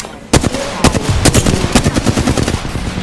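Apex Legends gunfire: loud, close automatic bursts with rapid, overlapping shots almost nonstop, starting after a brief quiet moment.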